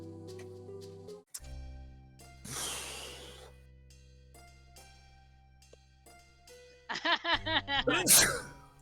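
A single sneeze bursts out mid-clip, loud and breathy, framed by scattered snorts, breaths and short vocal sounds in a quiet room.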